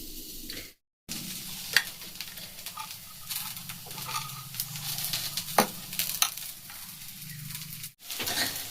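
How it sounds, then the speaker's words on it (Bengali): Cumin and dried chilli sizzle gently in a pan for khichuri while a spoon stirs and scrapes, with a few sharper clinks over a quiet, steady crackle. "এবার এটাকে নাড়িয়ে দেবো"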